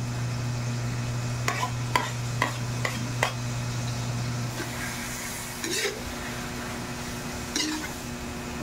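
Food sizzles softly in a pan under a low electric hum while hot dogs are sautéed, with a few sharp scrapes and taps of a utensil stirring.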